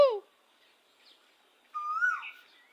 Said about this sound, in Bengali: পাখির শব্দ খুব ভালো লাগে শুনতে